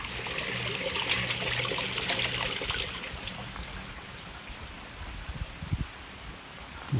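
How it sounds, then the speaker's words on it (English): Rainwater from a heavy storm trickles steadily out of a drain pipe and spreads across a lawn, a close, continuous wet splashing that eases slightly midway, with a few small knocks near the end. "Water comes out and then goes away over the lawn."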